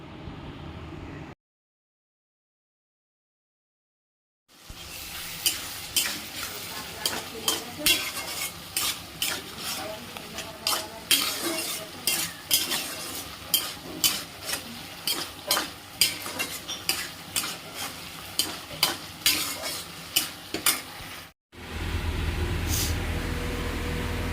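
Fish curry with mustard paste in a pan, repeated rhythmic spatula scrapes over a steady sizzle, close and fairly loud, after a silent gap near the start and before a brief pause and a duller hum at the end.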